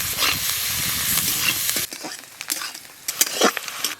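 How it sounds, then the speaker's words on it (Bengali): Onions and panch phoron fry in hot oil, a bright busy sizzle for nearly two seconds, then a quieter crackle with intermittent spatula scrapes. "পাঁচ ফোড়ন দিয়ে দেবো, পেঁয়াজ দেবো।"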